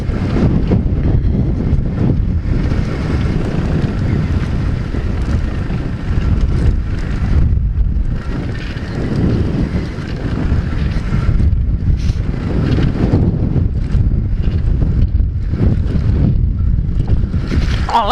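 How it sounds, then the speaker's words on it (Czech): Strong gusty wind roars across an outdoor microphone on a cold day of pit bike riding, loud, continuous buffeting that swells and dips throughout. "Začíná foukat vítr"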